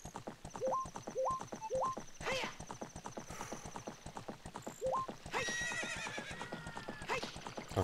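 Rapid hooves clip-clop in a steady galloping rhythm, broken by several high, shrill neighs from a horse in The Legend of Zelda, with bright synthetic game-like tones mixed in.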